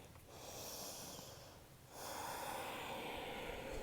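Slow, steady breath drawn in and out during a yoga flow, close and soft with a breathy hiss, a brief pause near the middle before a fuller exhale continues alone.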